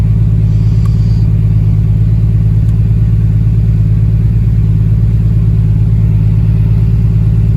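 A 1.5JZ VVTi engine runs hard on a dyno in a Mk3 car, a loud, continuous deep rumble and drone filling the whole stretch without speech.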